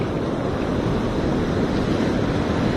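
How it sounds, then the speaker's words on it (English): Ocean surf breaking along a beach where perch are fished, a steady loud broadband wash of crashing waves with wind buffeting the microphone, no voices. "Got some bigger waves coming through here."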